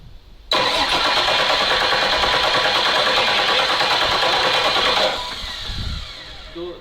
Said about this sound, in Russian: Сейчас попробуем прокачать масло и потом запустим его.